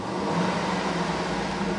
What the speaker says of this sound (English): I'm going to rev the engine on the left-hand side of your screen.